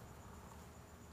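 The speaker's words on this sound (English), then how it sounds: "I wonder if you can hear the crickets," Crickets chirp in a continuous, faint, high-pitched trill indoors, steady and alone for about a second.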